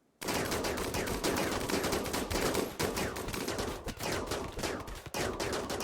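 Dense, continuous gunfire from the colony-building game Rimworld during a pirate base raid, rapid overlapping shots forming a loud sustained barrage that begins abruptly after a brief silence and runs without pause.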